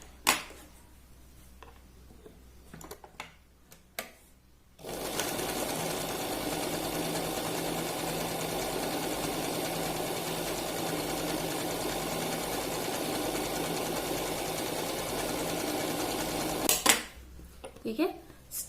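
A sewing machine runs in one steady, loud burst of stitching for about twelve seconds while sewing a fabric waist belt, with handling noises before and after.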